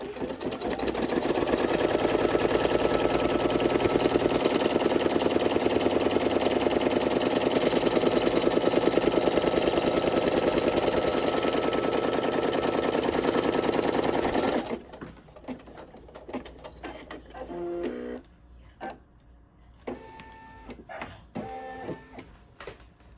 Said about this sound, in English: I'm gonna go ahead and I'm gonna do a placement stitch